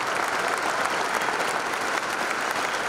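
Audience applause at a political talk after a pledge to support a bill with crop insurance: steady, dense clapping from a crowd, fairly loud and continuous throughout, with no voices over it.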